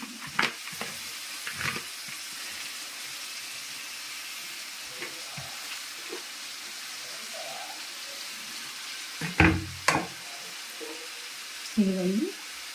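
Washed amaranth leaves tipped into a hot pan of wheat rava upma, with a steady sizzle throughout and a few louder clattering stirs and utensil knocks near the end.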